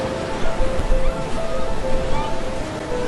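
Ocean waves surge and break on the shore, a steady wash of surf swelling in soft pulses, with faint music beneath.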